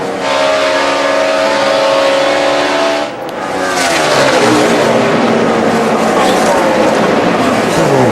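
NASCAR race cars roaring around Texas Motor Speedway in a 2011 race, loud continuous engine howl from a close pack of cars with a brief dip as one passes, and a commentator talking over it.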